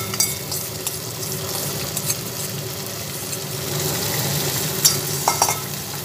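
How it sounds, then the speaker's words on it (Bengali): Chicken sizzles steadily in a pan after its yogurt marinade is poured in, a continuous frying hiss with occasional stirring scrapes and clinks near the end. "ঢেলে দিয়ে আবার ভালোভাবে ভেজে নেব"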